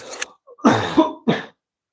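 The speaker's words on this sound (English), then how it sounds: "excuse me, I'm going to cough, but I already did it" A few short, rough coughs in quick succession, close and fairly loud, ending in silence.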